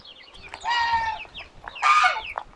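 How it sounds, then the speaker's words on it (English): Chickens cluck near an old coop on a sustainable farm, with two loud drawn-out squawking calls between softer clucks and scattered shorter notes, close by. "that's where the meat birds hang out. So that would have been another one of the original chicken coops."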